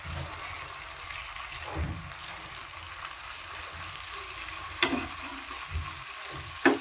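Potato fritters frying in oil in a pan on low heat and being turned one by one, a soft continuous sizzle with a few brief scraping knocks from the flipping, close and fairly quiet, no voices.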